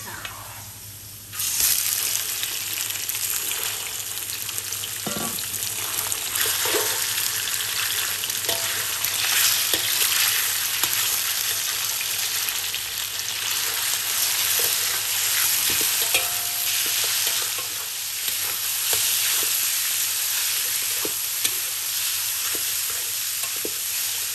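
Pork hitting a hot pan and being stir-fried with shiitake mushrooms and mixed vegetables, a loud, steady sizzle that runs throughout, broken by occasional scraping of the utensil.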